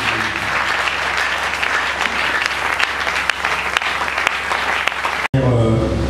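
A church congregation applauding at an anniversary seminar, a dense, sustained wash of many hands clapping that cuts off abruptly near the end.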